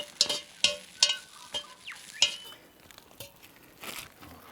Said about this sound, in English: Let's give them a bit of a stir around.